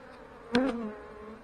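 Honey bees buzzing in an open hive during a colony inspection, a brief loud buzz of a single bee passing close over a soft steady hum of the colony.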